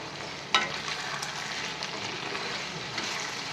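Ginger garlic paste fries in a pan for an eggplant and potato curry, giving a continuous hissing sizzle with one sharp clink near the start and faint stirring scrapes.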